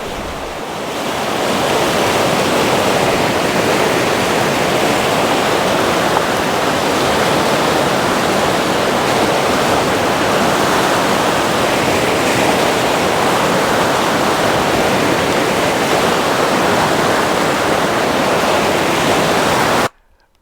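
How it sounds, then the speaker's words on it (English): Fast, heavy river current near Emerald Bay at Lake Tahoe rushes loudly and steadily, a continuous broadband roar of water lasting the whole stretch before cutting off abruptly. "the current on that water was just crazy. It was moving extremely heavy, extremely fast, and you can hear how loud it was"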